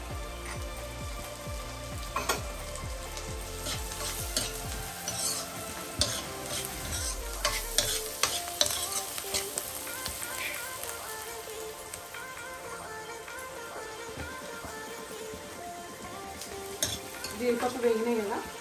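Cashews and onions fry and are stirred in a pan for kadai paneer, a continuous close sizzle with scraping stirs and clinks throughout, no talk over it.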